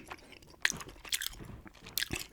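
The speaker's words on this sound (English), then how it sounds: "a gum chewing June ramble." Close, wet gum chewing with irregular smacks and soft crunchy clicks, intimate and quiet, with no talking during the chewing.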